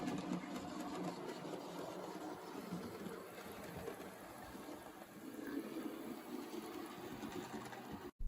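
A Hornby 85th anniversary Mallard model locomotive, a faulty unit, runs its small electric motor with a continuous buzzing whir, close and steady for several seconds before cutting off abruptly at the end.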